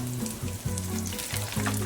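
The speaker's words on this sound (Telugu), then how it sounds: "లో ఫ్లేమ్లో మెల్లగా కలుపుకుంటూ ఇదంతా ఫ్రై చేసేసుకోవాలి" Chana dal, garlic and red chillies fry in hot tempering oil for a tomato pickle, giving a steady, close sizzle with soft stirring scrapes throughout and no voices.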